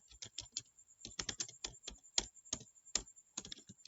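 Computer keyboard typing during a Python programming lesson: crisp, close key clicks in quick irregular bursts with brief pauses, no talking.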